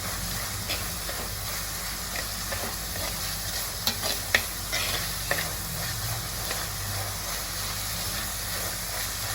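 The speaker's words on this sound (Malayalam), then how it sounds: "ഇനി നമുക്ക് നേരത്തെ കട്ട് ചെയ്ത് വെച്ചിരുന്ന പച്ചമുളകും ഇഞ്ചിയും ഇട്ട് കൊടുത്തിട്ട് ഒന്നുകൂടെ ഒന്ന് ഇളക്കി" Green chillies and ginger sizzle as they are stirred into a frying pan for egg bhurji, giving a steady, even hiss with a few light taps and scrapes of the spoon.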